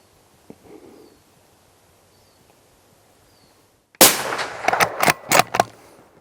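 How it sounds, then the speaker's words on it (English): A Sako 100 Explorer rifle fires during a hunt, a single sharp loud crack that breaks a long quiet outdoor stretch, followed by a few rattling, clattering knocks nearby. "I'm going to have to do a quartering shot."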